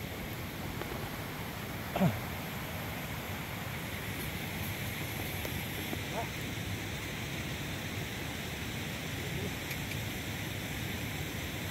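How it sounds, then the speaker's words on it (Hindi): Behind a trail in Yousmarg near Dragdolan and Bargam, a waterfall pours out a constant broadband rush, with one brief knock near the start and otherwise unchanging flow. "वो पीछे बह रहा है झरना"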